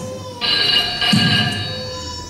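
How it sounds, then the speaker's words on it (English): Telephone bell ringing loudly and close, a steady electronic trill that starts abruptly and repeats in a short burst with no voices. "Pick up the phone, love."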